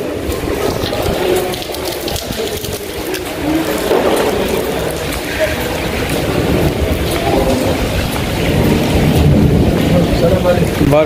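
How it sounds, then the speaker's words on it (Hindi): Heavy rain pours in Madinah, Saudi Arabia, a loud steady wash with wind buffeting the microphone throughout, while someone talks over it. "काफ़ी ज़्यादा जो सी है बारिश हो रही है सऊदीया में"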